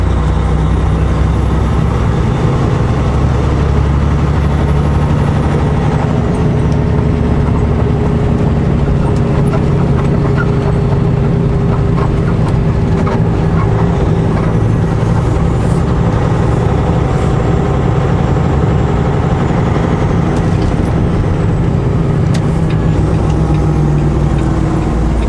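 A car's engine drones steadily at constant low revs while the driver feathers the throttle in manual mode on a slight downhill on a cold day near Penticton and Skaha Lake, with steady road and tire rumble throughout and no talk.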